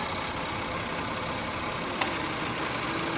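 A 2000 Toyota 3.0 VVT engine with a misfire idles at 650 RPM, giving a steady, even hum with a faint click partway through.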